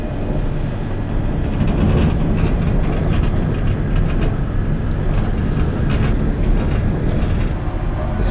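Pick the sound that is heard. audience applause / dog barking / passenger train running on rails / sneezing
passenger train running on rails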